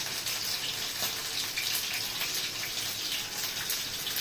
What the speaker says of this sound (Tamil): பாருங்கள் தண்ணி கொதிக்குது